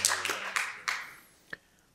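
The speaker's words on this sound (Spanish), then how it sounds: "Vamos a dar un aplauso a ella" A congregation at a Spanish-language church service claps for a woman who helped with the reading, a short burst of several claps that quickly thins to a couple of isolated taps.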